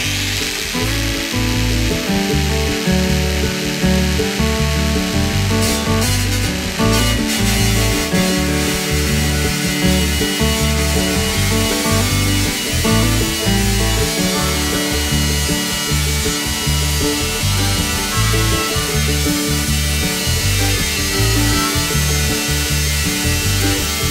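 An angle grinder cutting into a metal barrel for a homemade outdoor wood stove, a loud, steady, unbroken power-tool whine with a gritty rasp, up close and running continuously with no talking.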